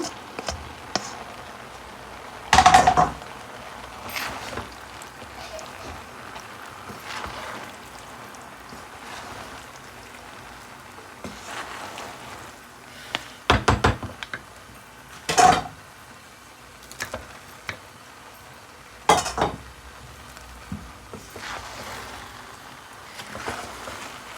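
Meat being stirred into rice in a pot, a spoon scraping and knocking against the vessel in a few sharp, scattered clacks over a quiet background.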